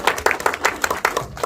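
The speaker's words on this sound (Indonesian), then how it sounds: "Tepuk tangan dulu dong, luar biasa." Reporters and guests at a press conference for a creature horror film give a short burst of applause, with quick, uneven hand claps close by and fairly loud, and a faint voice underneath.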